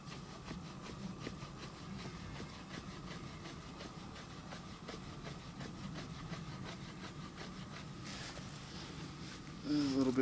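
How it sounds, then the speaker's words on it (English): A steel trade knife's 90-degree spine scraping wood in a steady run of short, rhythmic strokes, fairly close and moderate in level, with a brief louder burst near the end. "you can also do the scrape using a 90-degree spine"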